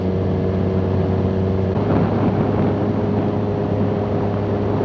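A Yamaha FZ6R sport bike ridden off-road on a rough unpaved road, its engine a steady droning hum that swells slightly partway through, loud and continuous with no voices.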